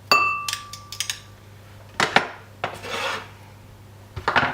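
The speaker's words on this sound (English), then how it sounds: "Now I crush the garlic here" Garlic crushed by hand in a home kitchen while cooking Sicilian fish, heard as a few separate short rasping, grinding bursts with quiet gaps between them, set against a faint steady hum.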